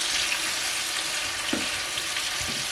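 Food sizzles loudly and continuously in a frying pan, cherry tomatoes and sausages in a spetsofai dish, with a couple of soft stirring clunks from the spoon partway through.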